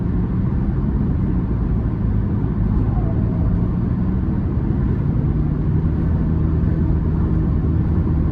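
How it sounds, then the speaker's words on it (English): A 2009 Toyota Prius 1.5 four-cylinder hybrid drives with its continuously variable transmission holding the revs high, producing a steady, even low engine drone and road rumble heard from inside the car. "that continuously variable transmission, just keeping the revs high until you let off the gas pedal"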